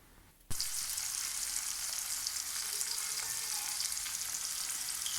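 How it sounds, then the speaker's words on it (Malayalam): Fish dropped into hot oil in a pan on the stove bursts suddenly into a loud, steady sizzle that keeps crackling evenly without pause. "അവിടെ ഫ്രൈ ചെയ്യാനായിട്ട് ഇട്ടിട്ടുണ്ട്"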